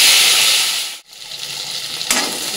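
Onion, ginger, garlic, cashew and tomato frying in mustard oil in a pan, a steady close hiss and sizzle that dips briefly to near silence midway, then resumes with a sharp crackle toward the end.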